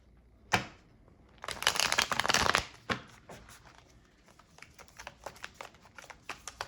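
Tarot cards being shuffled for a reading: a sharp snap, then a dense riffling burst of about a second, followed by a quieter run of soft, irregular card flicks and taps, close and without voices.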